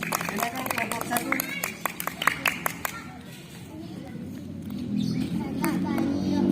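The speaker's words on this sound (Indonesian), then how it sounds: "Tepuk tangan untuk kelompok berapa ini?" A group in a classroom claps for another group, with quick, sharp claps that come in a burst and then die out, followed by children's chatter and murmuring.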